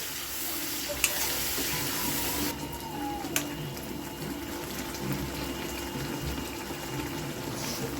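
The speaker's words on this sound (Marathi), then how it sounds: "हे चांगलं ना एकदम परतून घ्यायचं, तेल सुटतं" Tomato purée and rajma masala frying in oil in a pan for Punjabi dhaba-style rajma, a soft continuous sizzle and bubbling at low level, with a couple of sharp spoon clicks.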